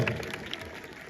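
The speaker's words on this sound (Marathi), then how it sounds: "गांधी चौक साठी जोरदार टाळ्या झाल्या पाहिजे." An audience at a local celebration in Satana applauds briefly, a dense, moderately loud patter of clapping with a faint crowd murmur.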